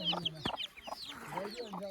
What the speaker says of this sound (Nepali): सानो चल्लाहरू